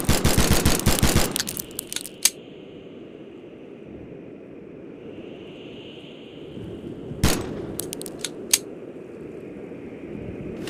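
KG-99 and AV-10 pistols fired in the video game Gorebox: a rapid automatic burst of loud sharp shots, a lull with a faint hum, then another short burst and a few scattered single shots.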